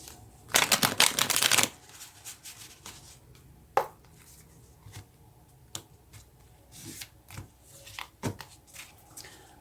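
Tarot cards being shuffled by hand: a loud riffling burst near the start, then quieter scattered taps, slides and card flicks close up, with no talking.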